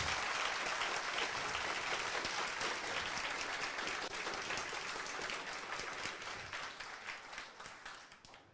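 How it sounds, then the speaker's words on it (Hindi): Sustained audience applause for a teacher at a celebration in Jodhpur, a steady wash of many people clapping that carries on for several seconds before slowly tapering off. "जितनी जोरदार तालियां हो सके आपसे उतनी जोरदार गुरु के लिए तालियां हो जाए"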